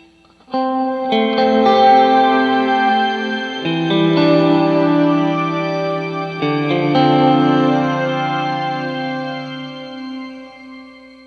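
Sustained, chord-based music played through an Eventide Space digital reverb pedal, lush and spacious, with long decaying tails blurring the chord changes into a wash of sound.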